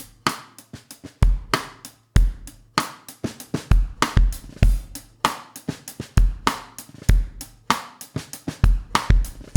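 A drum groove on kit with punchy kick and snare backbeats, light ghost notes on the snare and ticking hi-hat in a steady repeating pattern, loud and close with no talking.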